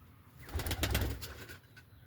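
A pigeon flies and comes in to land outdoors, its wings giving a brief burst of loud flapping that swells and fades over a couple of seconds, with faint cooing mixed in.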